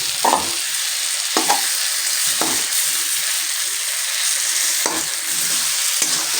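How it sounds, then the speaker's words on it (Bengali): Boiled potatoes stir-fried in spiced oil for a chickpea dish give a steady close sizzle, broken by a few scraping spatula strokes at irregular intervals. "আলুগুলো দিয়ে একটু কষিয়ে নেব হালকা।"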